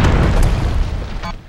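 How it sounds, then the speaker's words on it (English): A grenade explodes in the Red Faction video game, a loud, close, sustained boom that rumbles and slowly fades over about a second and a half, with no talk. "Did you throw a grenade at me?"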